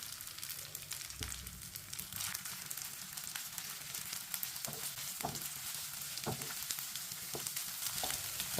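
Leftover rice and eggs are stirred through in a pan over a continuous bright sizzle, with a spatula scraping and knocking at intervals.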